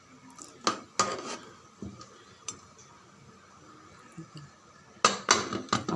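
A spoon clinks against a pot of simmering mutton kuzhambu with a teaspoon of oil added, followed by a metal lid set down, giving sharp scattered metallic knocks and clatters with quiet gaps between them.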